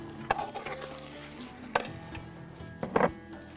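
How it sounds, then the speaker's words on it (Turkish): Lemon juice poured into a hot pan of cooking Mersin-style fellah köftesi, giving a soft sizzle with a few brief splashing bursts and clinks against the pan, fairly quiet and with no talking. "Şimdi limonumuzu döküyorum."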